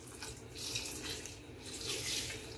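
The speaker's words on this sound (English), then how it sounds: "Add some water to the chicken foot." Boiling water pours into a pot holding chicken feet for a bean stew, a faint, steady splashing stream that holds for the whole stretch with no talking.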